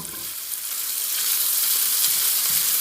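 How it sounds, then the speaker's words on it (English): Chorizo and egg sizzling steadily in a frying pan as they are chopped and broken up, a continuous close hiss of frying with no talking. "So I'm just chopping it up, grinding it up like I would ground beef or sausage"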